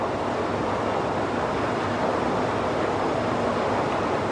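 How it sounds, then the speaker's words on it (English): Molten iron pours from a rotating torpedo car into a large ladle in a steel plant, heard as a steady, dense roar with no pauses or distinct events. "The torpedo car is already pouring the molten iron into the big ladle."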